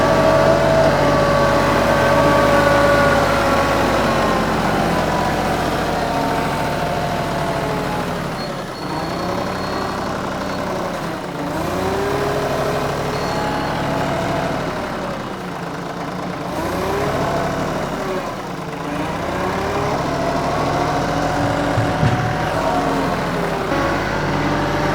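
A TYM 2515H 25-horsepower tractor loader works close by while scooping a large load of dirt, its diesel engine running steadily and loudly, dipping and rising in pitch as the load is taken.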